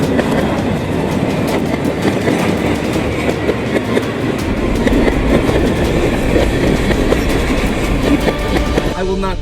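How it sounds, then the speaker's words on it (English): Close and loud, a train rolls steadily through a railroad crossing with continuous rumble and rhythmic clickety-clack of wheels on rails, heavy low rumble building partway through, without talk in the foreground. "I'm blocked off by the train."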